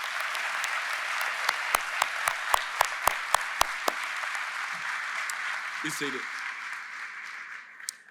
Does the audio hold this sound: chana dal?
no